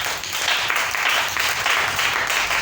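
A church congregation applauds and acclaims the Lord with dense, continuous clapping mixed with cheering voices, loud and steady throughout.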